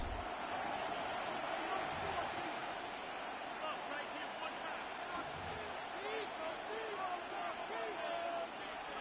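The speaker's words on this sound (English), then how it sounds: "The crowd making their presence felt." A steady, far-off roar of a stadium crowd during a Madden 26 NFL video game broadcast hangs as a dense, constant wash, with commentator-style talk drifting over it.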